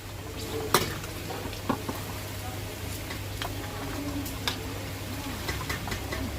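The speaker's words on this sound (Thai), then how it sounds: "หลังจากที่เราทอดมาได้ประมาณ 20 นาที หมูของเราก็เริ่มเหลืองขึ้นมาหน่อยหนึ่งแล้ว" Pork bones deep-fry in hot oil, a steady low bubbling hiss with occasional clicks and light stirring knocks of a utensil against the pan, close and fairly quiet.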